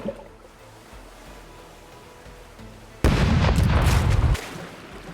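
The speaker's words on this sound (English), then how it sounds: "Cannons, rain fire." A quiet stretch gives way to a sudden loud barrage of booming cannon blasts in the video game Rogue Waters, several overlapping shots roaring for over a second before cutting off.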